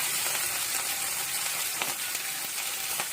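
Tempering of cumin, mustard seeds, urad dal, green chillies and fenugreek in hot oil gives a close, steady sizzle with scattered crackles and pops, heard alone without talk.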